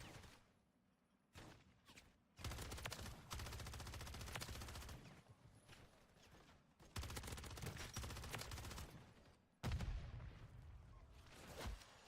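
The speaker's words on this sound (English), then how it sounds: "What is shooting me?" Bursts of rapid gunfire from a mercenary-filled video game firefight, loud sustained volleys broken by short pauses, with a heavy boom near the end.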